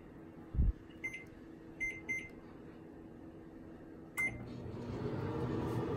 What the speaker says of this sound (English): So, put in your microwave and you set it for, I think, 2 minutes.